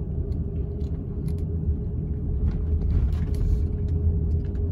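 Steady low road rumble from inside a moving car on an evening drive, a continuous engine and tyre drone with faint higher rattles and no one talking.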